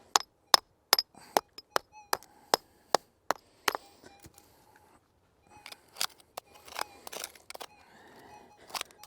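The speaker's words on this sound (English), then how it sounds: "Get the hammer out, see if we can soften that up a little bit." A series of sharp, evenly spaced metallic strikes rings out, about a dozen hammer blows loosening packed gravel, followed by scattered scraping and clinking as loose material shifts.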